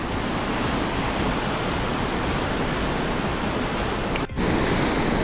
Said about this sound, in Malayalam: ഭയങ്കര നോയ്സ് ഉണ്ട് കേട്ടോ വെള്ളത്തിൻ്റെ